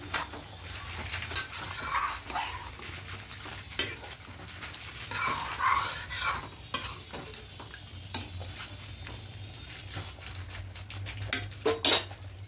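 Cauliflower pieces and green chillies being stirred into a pot of vegetarian khichdi, with clinking spoon-on-metal scrapes and knocks against a steady low sizzle, close but fairly quiet, with no talking.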